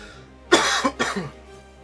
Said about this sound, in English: sorry if I'm kind of coughing a little bit